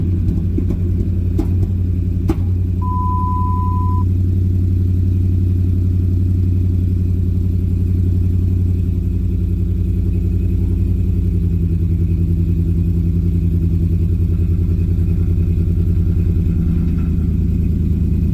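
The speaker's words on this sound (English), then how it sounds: "I'm gonna turn the engine on." A 2007 Dodge Ram 1500 HEMI pickup engine idles steadily for the whole stretch, a loud, close, continuous low rumble with no talking over it.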